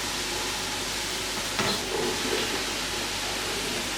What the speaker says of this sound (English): So now I'm going to add my aubergine and my baby marrow,